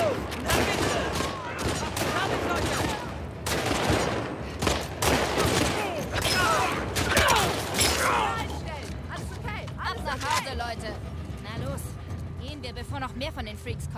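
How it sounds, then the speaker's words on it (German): Gunfire in the video game The Last of Us Part II: dense bursts of rapid shots and sharp cracks crowd the first half, then thin out as fainter sounds and talk continue. "Haben die Schüsse gehört."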